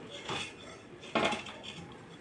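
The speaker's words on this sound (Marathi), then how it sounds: "गूळ कापून घ्यायचा आहे आपल्याला" A knife cuts through a block of jaggery on a hard surface, two short scraping chops close by in a quiet room, the second slightly louder.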